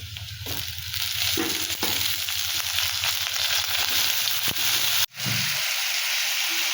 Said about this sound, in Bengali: আমি আলু দিয়ে রান্না করব, তাই প্রথমে আলুটা দিয়ে দেব।